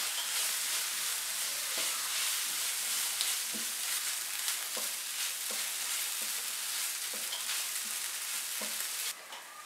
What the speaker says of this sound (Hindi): अब इन सबको 2 मिनट के लिए फ्राई करेंगे